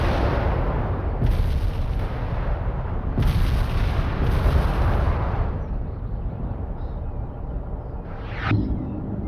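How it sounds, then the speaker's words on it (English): Heavy fuel-air bomb blasts in the strategy game World in Conflict: dense, sustained rumbling explosions rolling over one another, loud and close, easing slightly near the end before a final burst. "Definitely don't want to get in there when those fuel air bombs blow up."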